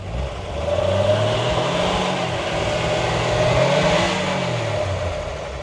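An IFA P3 inline-six engine revs up and settles twice, a mid-pitched motor rising and falling steadily, close by with no talking.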